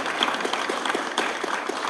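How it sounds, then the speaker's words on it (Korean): A seated audience at an entrepreneurship camp event claps in congratulation, a soft, even patter of many hands heard at some distance, steady and moderately faint from start to finish. "여러분 축하의 박수 한번 부탁드립니다"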